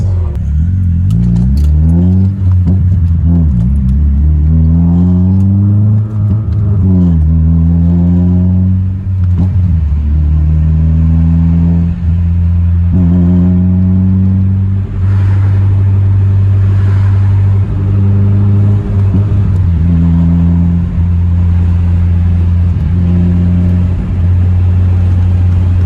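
A car fitted with a custom aftermarket exhaust revs hard and loud, its deep engine note climbing and falling through repeated throttle blips over about twenty-five seconds, close up with no talking.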